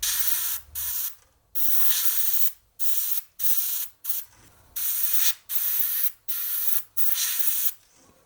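Gaahleri Mobius SP syphon-feed airbrush spraying thinned primer in a series of about eight short hissing bursts, each roughly half a second to a second long with brief gaps, close and fairly loud with no talking.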